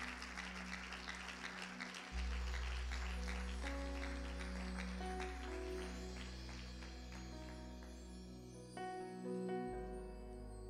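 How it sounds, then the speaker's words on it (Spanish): Congregation clapping in church over sustained organ or keyboard chords, the applause fairly quiet and mixed under the music for about eleven seconds. "Puedes tributarle a Dios un gran aplauso hoy."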